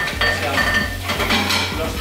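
Plates and dishes clink and clatter in a kitchen during washing up, light scraping and knocking over a low steady hum, close and moderately quiet.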